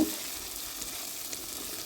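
Ginger, tomato and green chilli fry in a pan with a steady, close sizzle, while stirring adds a light scraping texture, with no voices.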